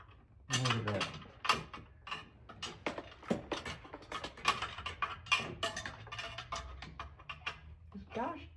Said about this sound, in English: Let's get the wrench over.